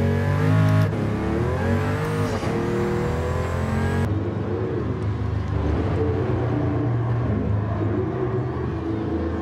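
The engine of a new Toyota Supra in the racing game Gran Turismo Sport revs hard and steadily, its pitch rising and falling with gear changes and a faint squeal of tires, loud and continuous with no talking.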